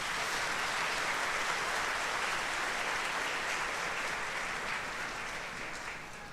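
A church congregation at Holy Thursday Mass applauding together, a dense sustained wash of clapping that fades slightly toward the end.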